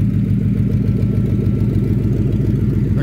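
A 2000 Mustang GT V8 warming up at idle, a loud, close, steady low rumble with an even pulsing beat and no revving throughout.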